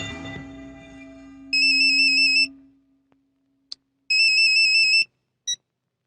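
A telephone rings unanswered in two long electronic warbling bursts separated by a pause, loud and close, with a short clipped chirp at the end and a fading low tone before the first ring.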